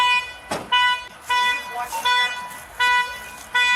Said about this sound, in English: Is that my car beeping?